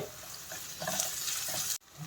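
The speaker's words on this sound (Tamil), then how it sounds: "நல்லா இதில் வந்து நம்ம இன்னும் கொஞ்ச நேரம் வதக்கலாம்." Tomato rice ingredients being sautéed in a pan, a steady close sizzle with light stirring scrapes throughout, cut off sharply near the end before resuming briefly.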